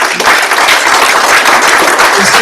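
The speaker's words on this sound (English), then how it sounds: "please, again, give the participants a round of applause" Hackathon attendees at a final presentations event give the participants a sustained round of applause, a thick, even wash of many hands clapping close and loud throughout.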